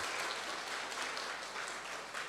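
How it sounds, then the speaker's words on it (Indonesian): Seminar audience claps together for themselves, a dense, continuous patter of many hands heard fairly faintly and alone, without talk, for a couple of seconds. "Silakan tepuk tangan untuk diri kita masing-masing."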